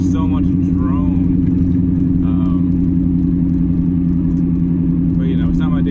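A C4 Corvette engine with muffler and resonator delete gives off a loud, steady low drone with no break, while someone talks over it from inside.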